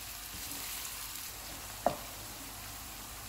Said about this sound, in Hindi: प्याज डालेंगे, इनको नरम होने तक फ्राई करेंगे।